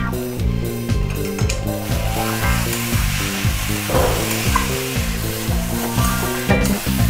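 Spiced elephant foot yam curry sizzles in a pan while a spoon scrapes and stirs in a steady, rhythmic beat, loud and close with no voices.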